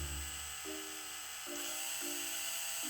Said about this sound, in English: Then I drill some holes at regular spaces with standard wood drill bit with a 3 mm diameter.